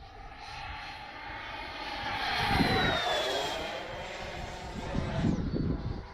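A Freewing Avanti S 80mm RC sport jet on a 6S setup roars past overhead, its electric ducted fan whine rising as it nears and sweeping down in pitch as it passes, loud and steady throughout.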